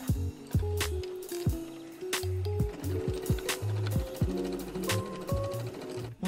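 Sewing machine top stitching along a seam of a fabric bucket hat, rapid mechanical stitching in short start-stop runs with clicks and thumps, close and alone.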